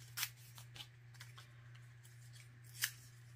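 Scissors cut through paper while making a craft piece, giving a few crisp, quiet snips spread apart over a low steady hum. No one talks.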